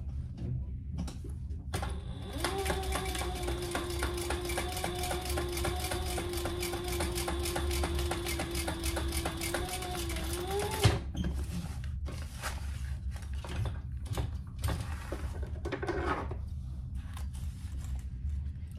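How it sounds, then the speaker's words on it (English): A sewing machine runs steadily for about eight seconds, top stitching the bottom gusset of a sling backpack, its needle whirring evenly before stopping with a clunk, followed by quieter handling noises. "top stitch on the bottom gusset"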